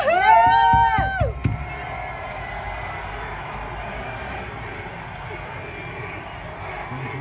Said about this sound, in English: They're cheering for him. Listen to that.